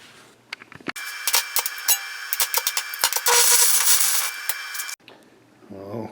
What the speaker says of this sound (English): we're going to go and weld a bead right around here with a stick welder